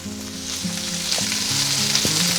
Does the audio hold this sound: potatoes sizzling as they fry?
yes